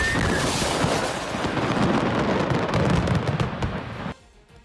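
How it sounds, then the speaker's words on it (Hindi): Firecrackers burst in a dense, crackling barrage of rapid pops and booms that roars continuously for about four seconds and then cuts off abruptly. "कुछ ही सेकंड में पूरा का पूरा मकान धमाके से उड़ गया।"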